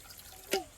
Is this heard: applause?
no